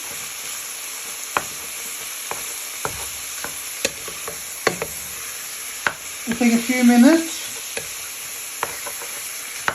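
Minced beef fries in a pan with a low, steady sizzle, broken by intermittent scraping and knocking as a wooden spoon breaks it apart and stirs it; a person speaks briefly partway through.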